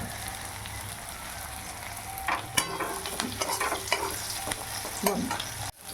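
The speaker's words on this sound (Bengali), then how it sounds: "মাছের ঝোল হবে সেজন্য পেঁয়াজগুলোকে ভেজে নিচ্ছে" Onions frying in a pan for a fish curry give a continuous close sizzle, with louder bursts and scraping knocks as they are stirred, ending in a sudden clatter.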